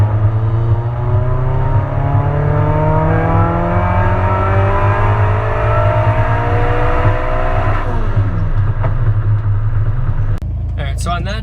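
K-swapped Mini Cooper with added boost and an AEM fuel pump pulling hard under acceleration, engine note climbing steadily through the revs with a gear shift near the end, loud and close from inside the car.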